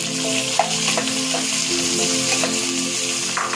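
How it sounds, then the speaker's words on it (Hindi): Two medium onions fry in oil left over from okra, giving a loud, dense close sizzle with light stirring clicks and no talking. "इसको हम थोड़ा सा फ्राई करेंगे।"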